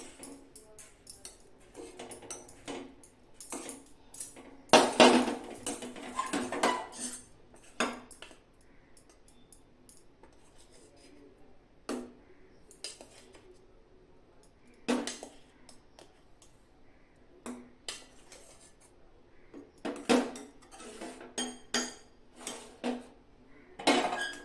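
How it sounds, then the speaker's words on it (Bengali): Rasgulla being mixed into thickened kheer in a pan makes a series of close metallic clinks and scrapes of a spoon against cookware, irregular bursts with quiet gaps between them. "দিয়ে রসগোল্লাগুলো এর মধ্যে দিয়ে ভালো করে ক্ষীরের মধ্যে মাখিয়ে নেব।"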